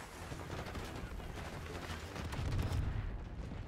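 Sniper rifle fire in Call of Duty Black Ops 6, a steady stream of dense, loud battlefield gunfire and booms that thickens into a heavier blast near the end.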